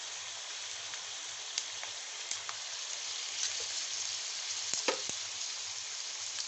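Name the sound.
chicken sizzling while frying with soy sauce and vinegar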